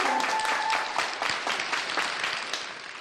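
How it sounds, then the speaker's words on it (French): Audience applause at a stage magic show, dense steady clapping from a crowd filling the clip, with a brief tonal whistle near the start. "On peut applaudir plus fort Enrico?"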